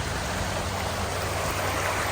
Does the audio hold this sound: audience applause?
no